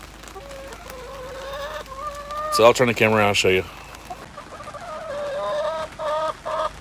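Backyard chickens, including a white American-breed hen, cluck and murmur close by in a steady stream, while someone talks over them and a burst of louder squawking rises briefly in the middle.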